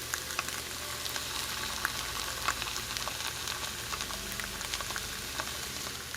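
Blended guajillo chili puree poured into a pan of chorizo and beans fries with a steady, dense sizzle and crackle, close and continuous throughout.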